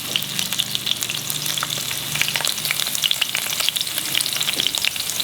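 Sliced green chilies and ginger fry in a pan over a high flame for prawn masala, giving a steady, close crackling sizzle with scattered sharp pops throughout and no talking.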